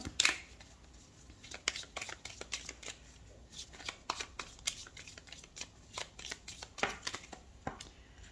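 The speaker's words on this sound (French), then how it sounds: "on va prendre 3 cartes pour le domaine financier avec l'oracle Tzigane" Oracle cards, a Tzigane deck drawn for a tarot-style reading, shuffled by hand in a quiet room: repeated crisp riffling flicks and slaps in irregular bursts, close and clear, with no talking.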